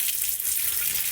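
Water gushes steadily from a freshly repaired household tap, a close, continuous hissing rush with no voices.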